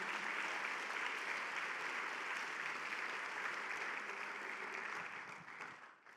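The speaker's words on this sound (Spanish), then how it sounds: "Dale un fuerte aplauso a Dios." Congregation at a Spanish-language church service applauding steadily, a dense wash of clapping that stays loud throughout and tapers off at the very end.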